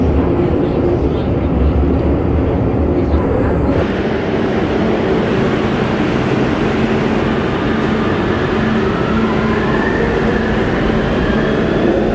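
Steady rumbling inside a Barcelona metro train while riding, a continuous low roar with shifting hiss, no clear talk above it.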